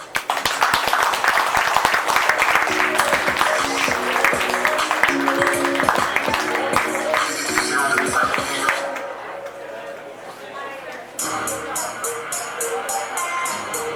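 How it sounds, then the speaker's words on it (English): A reception crowd gives a loud, dense round of applause that carries for several seconds before thinning out, after which softer, scattered claps and room noise continue. "Let's give him another round of applause, please"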